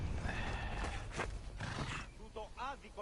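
Horse in the video game Assassin's Creed Odyssey, heavy hoof clatter and snorting followed by a loud, wavering whinny near the end, heard close, with game voices talking over it.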